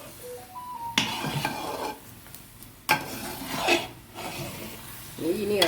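Jackfruit halwa stirred in a pan with ghee, a spoon scraping and rasping against the pan in bursts separated by brief pauses, close and moderately loud, with no one speaking.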